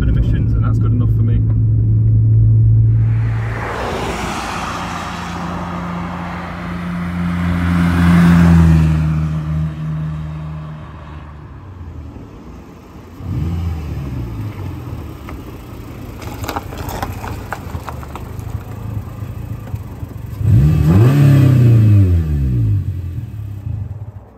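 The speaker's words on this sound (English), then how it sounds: "There's a hydrogen powered car." Hydrogen powered car engine revving in repeated surges, loud and close, with rising and falling rumbling pitch and short pauses between bursts; people talk over parts of it.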